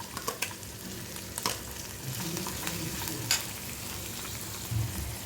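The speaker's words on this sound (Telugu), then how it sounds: "ఆయిల్ అయితే హీట్ ఎక్కిందండి. ఆనియన్స్ వేసుకుందాం." Onions frying in hot oil in a pan make a faint, continuous sizzle with occasional light stirring clinks, fairly quiet and with no voices.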